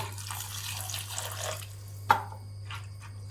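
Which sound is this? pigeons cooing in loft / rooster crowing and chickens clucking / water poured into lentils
water poured into lentils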